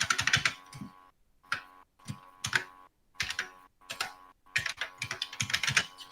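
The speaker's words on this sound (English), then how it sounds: "Welcome back to ASMR Keyboard Typing" Typing on a computer keyboard in bursts of rapid clicky keystrokes separated by short pauses, close and clear with a steady faint hum beneath.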